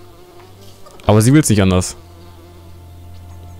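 A bee buzzing in the video game Lego The Hobbit, a continuous insect drone running under the whole stretch while someone briefly speaks in German over it.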